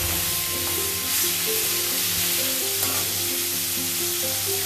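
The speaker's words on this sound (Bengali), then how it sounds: "আমি এবার এর মধ্যে এই চালতার টুকরোগুলো দিয়ে দেব।" Pieces of elephant apple (chalta) sizzle and fry steadily in hot oil in a pan, with a dense, even crackle up close and faint stirring, and nobody speaks.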